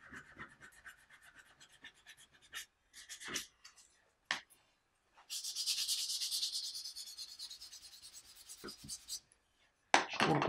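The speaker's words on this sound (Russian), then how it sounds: "Шкурку по мере износа меняем." Sandpaper rubs over a plum wood butter knife in close, scratchy strokes, with a few brief bursts early and then a longer sustained stretch of sanding, with no talk over it.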